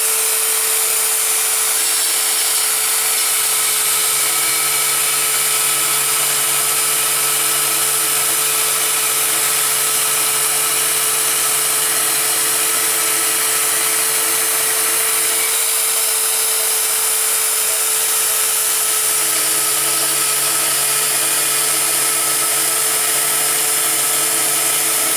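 A power tool cuts through a piece of steel for a diamond weld-in insert, giving a loud, continuous, steady grinding roar that holds unbroken throughout, close and alone.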